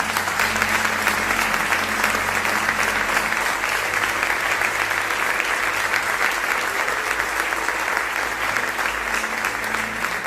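Sustained applause from a church congregation at a Quadrangular evangelical service, steady and dense for the full length, with no break in the clapping.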